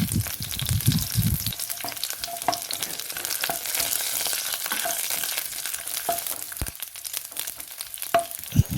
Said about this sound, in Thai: แล้วก็ตามด้วยกุนเชียงครับ ลงไปผัดต่อเลยครับ